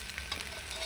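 Onions frying in hot oil in a wok during Bengali cooking, a brief close hissing sizzle with faint crackle that is steady and heard alone.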